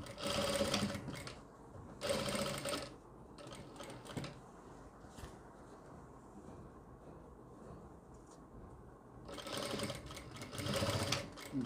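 A sewing machine runs a single line of stitching on a readymade suit, with short rapid whirring bursts at the start and a longer run at the end, separated by quiet handling.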